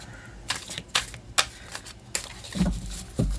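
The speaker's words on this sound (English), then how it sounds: "And I'm going to give them a quick shuffle and split for both, and then we'll deal them out." Tarot cards from a deck such as the Crystal Moon Tarot are shuffled close up in a handful of short, crisp riffling bursts spaced by brief pauses, with soft handling thuds near the end.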